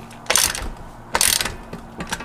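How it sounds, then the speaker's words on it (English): A tool draws serrated wheel bolts back into a Toyota rear axle during ABS rear-end seal and bearing work, producing two loud ratcheting mechanical bursts and a softer third, close by and without speech. "right now I'm pulling it in, pulling the serrated bolts back into where they live"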